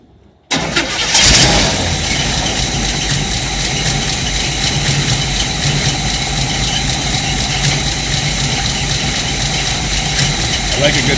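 A rebuilt 1958 Chevrolet Biscayne engine starts abruptly and settles into a loud, steady idle close by, with a continuous rumbling hum and vibration that appears to be starved of fuel.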